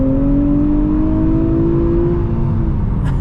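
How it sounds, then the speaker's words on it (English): A 2023 Nissan Z with its nine-speed automatic drops to third gear via the paddle shifters, its engine note rising and then falling in a steady, loud drone close by, with a brief blip near the end. "Downshifting to third gear."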